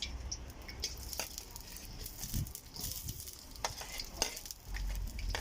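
Onions fry in a pot over a village cooking fire, giving a faint, continuous crackle and sizzle with intermittent scraping stirs.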